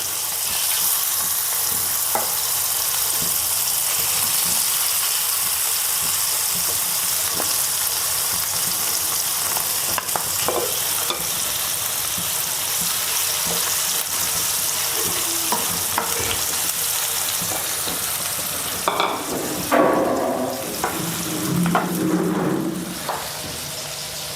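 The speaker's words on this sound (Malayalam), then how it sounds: "തീ കുറച്ചിട്ടാണ് വറുക്കുന്നത്" Continuous gentle sizzling of stingray pieces frying in a pan on low flame, steady and close, with occasional clinks and scraping toward the end.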